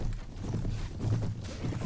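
Horses gallop in the medieval combat game Mount & Blade: Prophesy of Pendor, a fast rhythmic thudding of hooves at close range, moderately loud, with faint noise behind.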